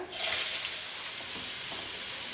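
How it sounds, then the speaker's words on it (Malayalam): Chopped vegetables and garlic frying in a pan over a high flame, giving a loud, steady hiss that flares up at the start and continues evenly without any talking. "വെളുത്തുള്ളി ഹൈ ഫ്ലെയിമിൽ ഇട്ടിട്ടാണ് മൂപ്പിക്കുന്നത്. അതിലോട്ട് ചോപ്പ് ചെയ്ത് വെച്ചിരുന്ന വെജിറ്റബിൾസ് ഇടുവാണ്."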